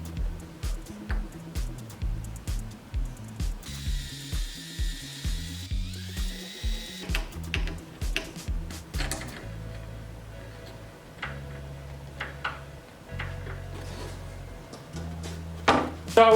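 Hinges are fastened onto a Nintendo M82 kiosk cabinet with a power driver that whirs in a steady run of short, evenly spaced bursts, then gives a few longer, irregular runs with scattered clicks and knocks of handling.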